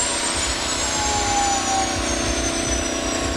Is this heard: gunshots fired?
no